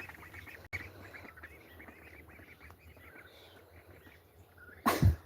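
Ducklings in their new big house give soft, repeated quacks and peeps. The calls are faint and scattered, with a louder bump of noise near the end.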